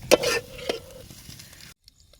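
Ram's blood and liver fry in a pan, a short burst of loud stirring scrapes and sizzling that thins out and drops to near silence within two seconds.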